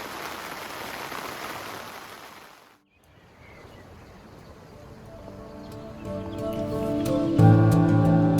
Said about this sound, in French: Et là il commence à pleuvoir mais on espère que demain matin le temps sera mieux.